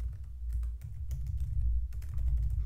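Keys on a computer keyboard are tapped in quick, irregular bursts, close and fairly soft, with a short pause between runs of typing.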